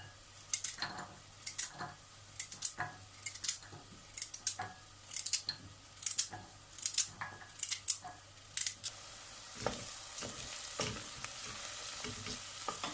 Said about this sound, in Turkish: Onu da küpler halinde doğruyorum